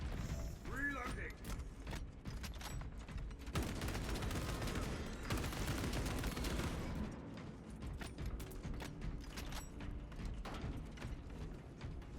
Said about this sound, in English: Reloading weapon.